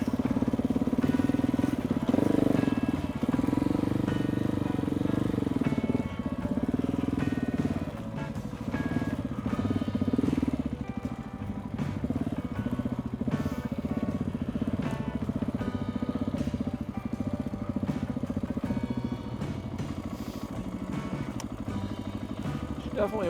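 A KTM 690 motorcycle rumbles along an overgrown former road in the trees on Malcolm Island, its engine droning steadily close by with throttle swells and mechanical rattles, as a voice speaks over it now and then.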